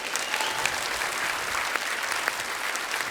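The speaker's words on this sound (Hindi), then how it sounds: "एक बार जोरदार तालियां हमारे मेहमानों के लिए." A studio audience at a comedy talk show gives the guests loud, steady applause that fills the whole stretch without a break.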